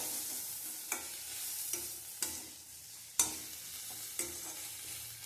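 Snake gourd stir-fried in oil in a pan, with a steady low sizzle and periodic sharp scraping strokes of a spatula roughly once a second, close and alone with no voices.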